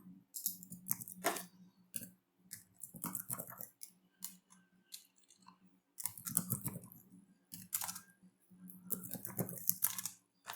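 Someone types English and Tamil text into Python code on a computer keyboard, producing quiet, irregular bursts of close key clicks with short pauses between them. No one speaks.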